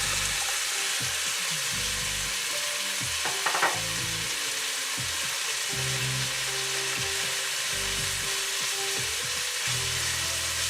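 Roast pork fries loudly in a pan for pinakbet, with a dense continuous sizzle and repeated scraping and clanking as the meat is stirred, close and steady throughout.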